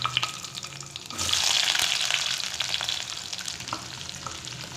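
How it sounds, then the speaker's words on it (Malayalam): Cubed onion dropped into hot coconut oil with mustard seeds, bursting into a loud, close, continuous sizzle that swells and then holds steady, with no voices. "ഇനി ഇതിലേക്ക് ക്യൂബ്സ് ആയിട്ട് കട്ട് ചെയ്ത സവാള ഇട്ട് കൊടുക്കാം."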